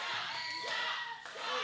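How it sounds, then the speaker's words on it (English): Arena crowd at an independent pro wrestling show, a steady roar of many voices filling the clip with rising chant-like swells, loud and close, with no single speaker standing out. "Crowd chanting for chops."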